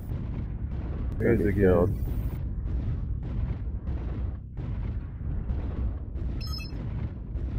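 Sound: artillery strike explosions in video game MechWarrior Online

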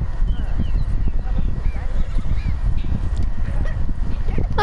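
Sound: horse hooves, video game Red Dead Redemption 2

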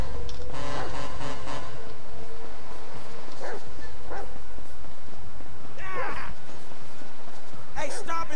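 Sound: dog barking and attacking in video game GTA 5

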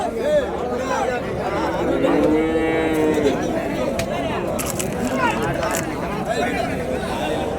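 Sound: native cows mooing at cattle market

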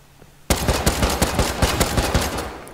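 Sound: gunfire in Rust video game

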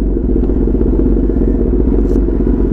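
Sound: Kawasaki ZX10RR superbike engine

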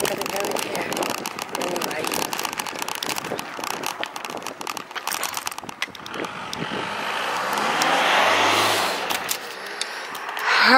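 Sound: vehicle passing on a road

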